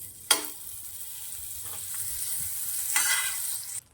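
Paneer cubes fry in two cubes of hot melted butter in a pan, giving a steady close sizzle with a sharp clatter near the start and a brief louder surge of crackle later, no talking.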